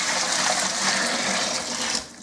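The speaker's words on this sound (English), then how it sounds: "let's get our sugar water in there" Sugar water poured into a home brew beer fermenter, a steady gushing, splashing stream of liquid that fades out at the end.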